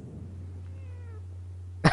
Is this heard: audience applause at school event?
no